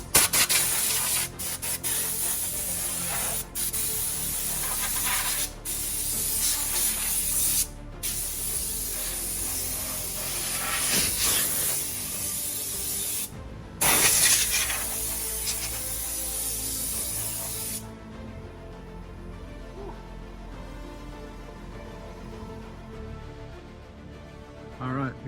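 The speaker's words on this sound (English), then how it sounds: "get a quick rattle can coat on there" Rattle can spray paint hissing steadily as a coat goes onto a used Husky tool box, in long continuous bursts with short pauses between passes, close and fairly loud, with faint voice in the background.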